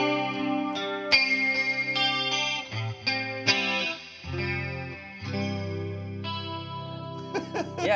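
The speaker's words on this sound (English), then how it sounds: "I'm playing the Lead 3 with the humbuckers." A Fender Lead III electric guitar with humbuckers plays an 80s-style tone drenched in chorus and distortion, a short jam of sustained chords and single notes, close and clear with no talk.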